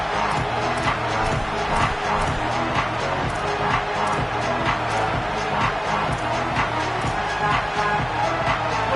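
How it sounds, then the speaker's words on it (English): Home crowd of NC State Wolfpack fans roaring in a college football video game, a dense, steady wall of screaming and cheering throughout, loud and unbroken, with faint voices buried in the din. "The Wolfpack faithful screaming at the top of their lungs, desperate for a 3rd down stop."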